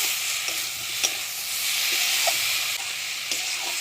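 Rohu fish curry with cauliflower frying in a pan after white and yellow mustard paste goes in: a steady, close hiss of sizzling oil broken by a few sharp scrapes of stirring, with no voices.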